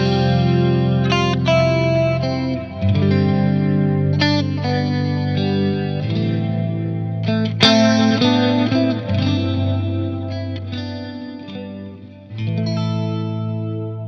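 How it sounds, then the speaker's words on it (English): Clean electric guitar tones from a Novo Idris Strat with Fralin pickups in the fourth pickup position, with ringing single notes and chords played in phrases that sustain and decay, close and alone. "let's check out some clean tones starting out in position 4"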